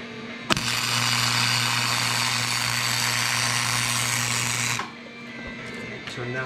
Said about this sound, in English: Oh yeah, let's get to welding.